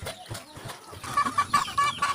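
Chickens clucking close by, a series of short, pitched clucks growing busier and louder toward the end.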